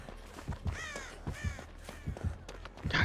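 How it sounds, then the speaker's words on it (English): Crows caw in the Dead by Daylight horror game, a flurry of harsh, rasping calls and wing flaps in several quick bursts, fairly close and alone without talk. "God dang crows, man."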